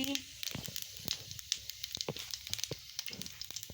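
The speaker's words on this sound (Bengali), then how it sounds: "এবার তেল গরম হয়ে গেছে আমি পাঁচ ফোড়নটা দিয়ে দিচ্ছি আর শুকনো লঙ্কাটা দিয়ে দিচ্ছি" Panch phoron and dried red chillies hit hot oil for spinach chorchori, giving a faint, scattered crackle and sizzle of quick pops, with a voice speaking softly over the frying.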